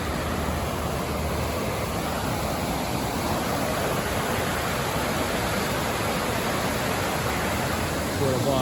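River water rushing in Southbridge, Massachusetts, a steady broad roar holding at one level throughout, close by with no pauses.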